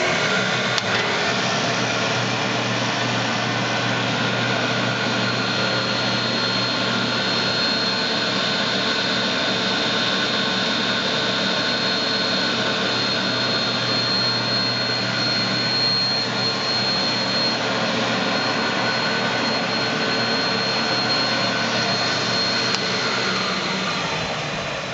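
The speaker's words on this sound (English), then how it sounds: "You also do get the complete guards. This front slash side guard is off to the side so you can see the machine run." A Powermatic 2A tenoner fitted with cope heads runs with its side guard off, giving a loud, constant whirring roar with a steady high tone riding on top, unbroken for the whole stretch and heard without any talk.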